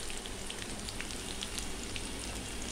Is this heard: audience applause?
no